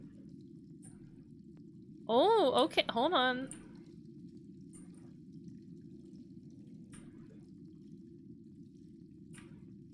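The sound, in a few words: running water sound in a dark hallway, from a video game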